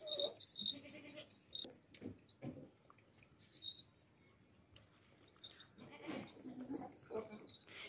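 A goat bleats in several short calls close by, with quieter stretches, faint bird chirps and light rustling between them.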